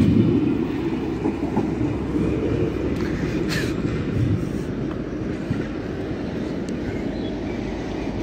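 Train passing behind steam locomotive 45690 Leander, bound for Scarborough, a steady loud rumble with faint rail clatter throughout, no voices.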